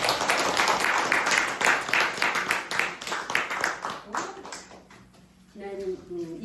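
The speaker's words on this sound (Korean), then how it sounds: "박수 한번 쳐주세요" A church congregation at a Sunday service claps briefly, close and moderately loud, with the clapping fading out partway through before speech and a faint tonal sound take over.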